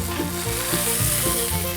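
Sausages sizzle loudly and steadily on a hot Blackstone flat-top griddle, with a close, continuous crackle and soft scraping as they are moved along the surface.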